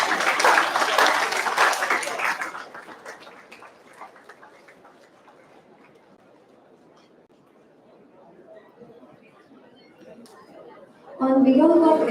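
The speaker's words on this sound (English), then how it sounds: "Let's give a huge round of applause," Conference audience at an international medical and health sciences meeting gives a burst of applause that fades into scattered clapping and murmur, before a voice over a microphone resumes at the end.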